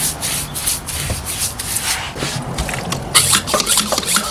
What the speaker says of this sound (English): All I'm doing is basically whitewashing it.